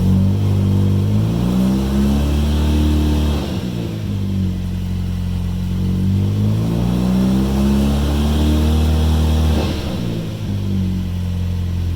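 A car engine idles loudly and steadily, then revs up and settles twice, rising and falling in long smooth swells, with lifter ticking noted and no talking, after engine cover work.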